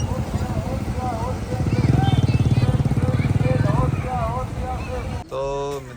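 A motorcycle carrying two riders putters along on the way to the old Deesa fair, its engine pulsing steadily and loudly in the middle stretch while people talk over it throughout.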